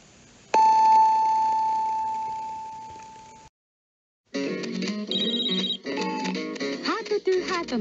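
Japanese FM radio time signal marking 9 o'clock: a single sustained electronic beep tone that decays over about three seconds, followed by a pause, then jingle music with a voice.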